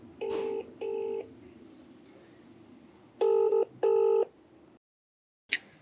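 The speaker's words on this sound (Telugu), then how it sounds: "ఒకసారి కాల్ చేస్తాను." A telephone call is placed: two short dial-tone bursts, then two longer ringing tones, a brief silence and the start of another ring, all clear and close with no talking.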